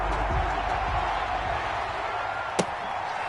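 A stadium crowd roars in a Madden 21 football game between the Arizona Cardinals and the Seattle Seahawks. The noise is a steady, dense wash that holds for the whole stretch, with one sharp knock near the end.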